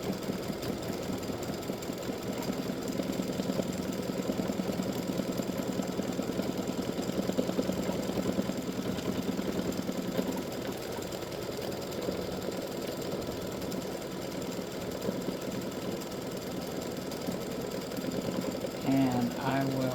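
An embroidery machine satin stitches and loops freestanding lace bat earrings, giving a steady, rapid mechanical whir with a rhythmic needle chatter that runs continuously throughout.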